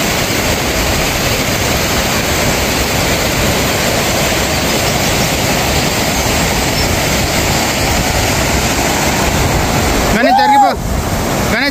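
Constant broadband roar of a waterfall along the Harihar fort trek, loud and unbroken for several seconds, with a brief swooping sound cutting in near the end.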